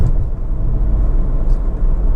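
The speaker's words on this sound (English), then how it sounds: "Engine starts absolutely instantly, of course, as you'd expect." A Honda Civic 1.6 i-DTEC diesel Tourer runs with a steady, loud, low rumble, close by and even throughout, with no talking.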